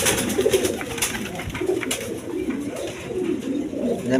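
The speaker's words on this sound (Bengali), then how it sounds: "কবুতর বাইরে আছে দেখেন" Lahori pigeons at a pigeon seller's place coo in low, rolling, repeated calls, close and fairly loud, overlapping with one another without pause.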